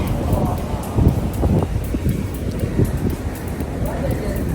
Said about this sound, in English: Trying to protect you from a little bit of wind.